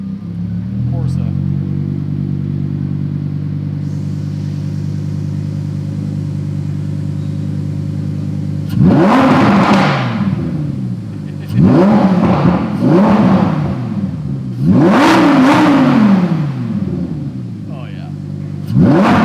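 Lamborghini Huracan EVO fitted with a Fabspeed Motorsport exhaust: a loud idle drone, then several sharp rev blips that rise and fall, each trailed by crackling pops, close by, with a brief exclamation from a person.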